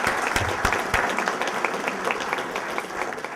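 Audience applause fills a room at the Stanly County Sports Hall of Fame 2012 induction ceremony, a steady dense patter of many hands clapping at moderate loudness, sustained throughout with no break.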